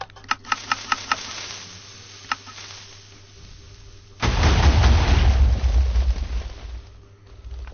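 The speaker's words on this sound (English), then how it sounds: "that's one of the TNT cannons" A few sharp pops and clicks, then a heavy, rumbling TNT cannon explosion in a video game bursts in and roars for several seconds before fading.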